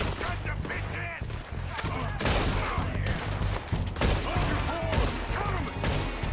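Dense, continuous gunfire with heavy recoil bursts from a video game, loud and close, overlapping rapid shots and crashing impacts throughout, with faint voice mixed in.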